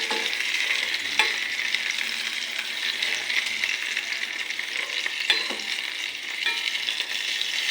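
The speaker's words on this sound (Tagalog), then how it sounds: "Pupulihin na siya ng sarili niyang mantika." Food fries in its own rendered fat, giving a steady, dense sizzle and crackle close by, with a few soft clicks of stirring. No voices.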